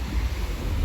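Surf rolls onto a beach at night with wind rushing across the microphone, a steady low roar of waves and gusts with no voices.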